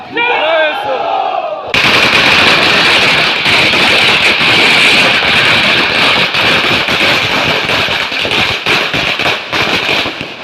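Rapid, dense firecracker bursts crackle loudly and continuously for several seconds, with a crowd faintly audible beneath the popping.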